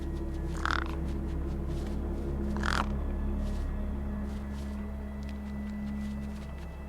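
Crows in the game Beyond a Steel Sky give two harsh caws a couple of seconds apart over a low, droning ambient hum, with no one speaking.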